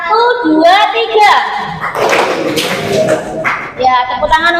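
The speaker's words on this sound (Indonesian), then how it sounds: "tepuk tangan untuk 10 menit" Children in a classroom clap in counted rhythmic patterns, sharp hand claps and thumps mixed with a teacher's and kids' voices speaking over them.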